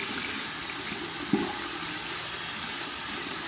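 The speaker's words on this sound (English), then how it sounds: "I'm just going to put it under some warm water here." Warm tap water runs steadily over a shaving brush at a bathroom basin, a soft continuous stream with one brief splash partway through, heard close and fairly quiet.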